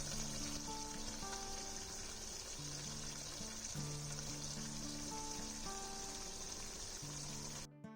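Manchurian balls made from bottle gourd sautéing in a pan, a faint, steady crackling sizzle with a low hum running under it, ending in a brief knock.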